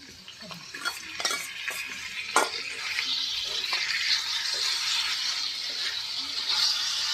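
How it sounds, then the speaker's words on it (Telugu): Chicken and chopped tomato fry together in a pan for a Telangana-style chicken fry. A bright, steady sizzle grows through the clip, with clinks and scrapes of a spoon against the pan early on. No voices. "ఇప్పుడు టమాటా అయితే వేసుకుంటున్నా"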